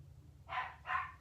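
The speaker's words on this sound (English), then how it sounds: "sorry, my dog's barking" Two sharp barks from a dog indoors, a short pair of loud yaps close by, alone over a faint low hum.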